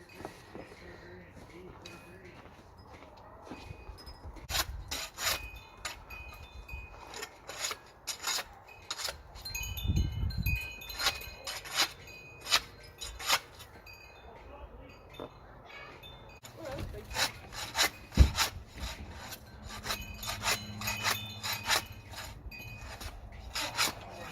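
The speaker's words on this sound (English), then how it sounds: "the driveway is super icy, so we're shoveling / ice chipping it" Shovel and ice chipper working an icy driveway, with repeated sharp scraping and chipping strikes, louder bursts midway, and quieter stretches between, outdoors at moderate distance.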